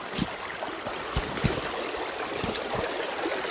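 Water from a mini gold-prospecting sluice set in a creek pours out steadily, a broad even rush and trickle, close and continuous.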